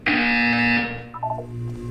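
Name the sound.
buzzer in the video game Portal 2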